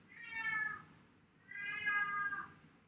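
A house cat meows twice, each call a drawn-out, tonal cry about a second long separated by a short pause, fairly close and clear over a quiet room background.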